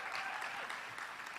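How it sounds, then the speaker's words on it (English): Stadium crowd at NRG Park in Harris County claps throughout a brief burst of dense, continuous applause, fairly even in level and heard from a middle distance. "your applause can be a little louder for these people because we're in a stadium"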